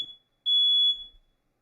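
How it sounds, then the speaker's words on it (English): A smoke alarm gives a single sharp, shrill electronic beep, clear and alone in an otherwise quiet room. "I think that might be a smoke alarm."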